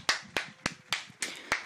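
One person claps into a microphone during a Soyuz launch broadcast, six sharp, close, evenly spaced claps at a slow steady rhythm with quiet between them.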